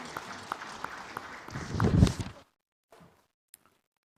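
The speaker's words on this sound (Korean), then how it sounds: "우리 박수로 하나님께 영광 돌리겠습니다" A church congregation at a Sunday morning service applauds together in praise, a dense roll of clapping that swells and then stops abruptly, followed by a few scattered faint sounds in a quiet hall.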